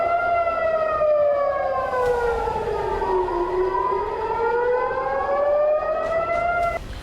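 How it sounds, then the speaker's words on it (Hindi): Air raid civil defense siren wailing in Israel: a loud, steady tone that slowly falls then rises again in one long sweep, rich in harmonics, heard alone without voices. "इजराइल में एयर अटैक के सायरन गूंजते रहे।"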